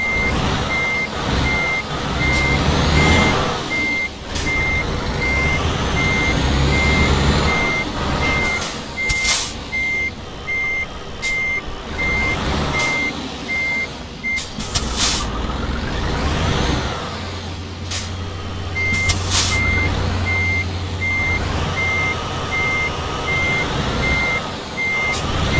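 Truck reversing alarm in the Euro Truck Simulator driving game, repeating steady beeps over a low diesel engine rumble, with air-brake hisses and the engine revving up later; no talking.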